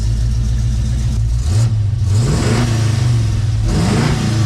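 A Pontiac Firebird engine revs up in repeated rising surges over a steady low idle after a fresh tune, loud and close, with no talking.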